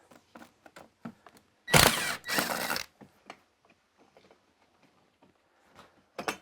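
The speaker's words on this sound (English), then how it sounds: "Now you just need to remove the 2 screws, 1 on either side." Screws being backed out of the bracket of a Midea U-shaped window air conditioner: faint scattered clicks and taps, then a loud whirring burst from a power driver lasting about a second, and sparse handling noises afterward.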